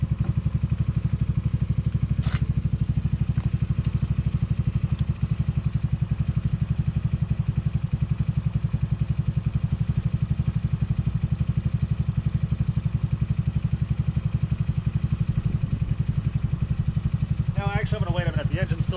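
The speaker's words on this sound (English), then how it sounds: "The engine's still a little cold," A camper's cold engine idles steadily while warming up, recently run a little rich, with a constant low rumble throughout, close and loud, and a brief squeaky metallic sound near the end.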